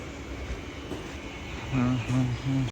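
A local commuter train pulls into a station platform, its steady rumble building and then a loud, repeated horn-like tone sounding three times near the end, with people talking over it.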